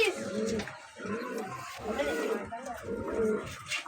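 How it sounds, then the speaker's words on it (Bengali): A pair of Pakistani Royal Teddy pigeons, male and female, cooing nearby in repeated low, throaty rolling phrases, about four in quick succession. "খুব সুন্দর রয়্যাল টেডি পেয়ার আছে, ফুল খাড়ার পায়রা আছে।"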